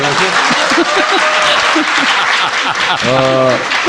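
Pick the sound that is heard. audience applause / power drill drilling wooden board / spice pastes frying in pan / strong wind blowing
audience applause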